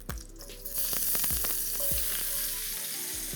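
Garlic sizzles in a hot pan over leftover browned bits from cooked chicken breast, a steady close frying hiss with a few sharp spatula knocks and scrapes, no voices.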